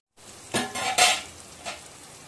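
Tomatoes cooking down in a pan are stirred in a few quick scraping strokes over a soft sizzle, followed by a fainter final stir.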